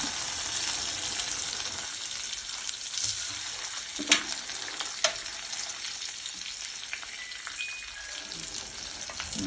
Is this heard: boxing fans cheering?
no